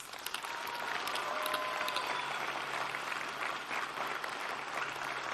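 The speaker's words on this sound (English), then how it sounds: "my most heartfelt congratulations and a well-deserved round of applause" A commencement crowd gives a round of applause for the graduating class of 2013 at Manchester Community College, with sustained, steady clapping from a large audience in a hall and a faint voice beneath.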